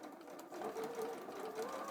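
A sewing machine runs steadily while stitching a quarter-inch seam on pinwheel quilt blocks, a continuous close mechanical whirr with a faint rising motor tone, no speech.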